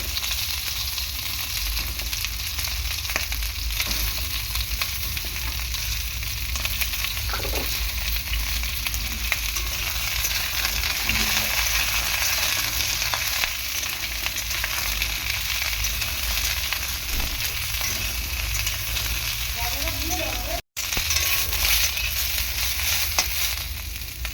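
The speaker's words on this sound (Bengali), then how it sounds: "এখন আমি পটলগুলো প্রথমে ভেজে নেব।" Pieces of pointed gourd (potol) fry in hot oil in a kadai, giving a steady, loud sizzle and crackle that holds unbroken for the whole stretch apart from one brief cut near the end.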